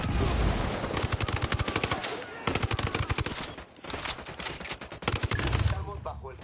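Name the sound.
enemy gunfire in Ghost Recon Wildlands video game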